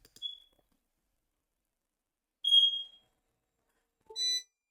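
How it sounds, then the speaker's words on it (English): Three short, high electronic beeps from a home device sound as the power comes back on, spaced unevenly in an otherwise quiet room. "You guys heard the beeps."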